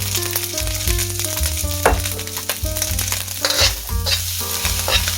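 Fried rice sizzles and crackles in a hot pan with sesame oil, a steady close frying hiss punctuated by stirring scrapes, with no talking.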